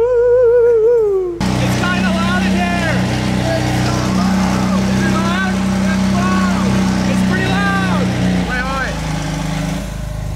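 A loud car engine rumbles and revs, deep and sustained nearby, while people talk and shout excitedly over it.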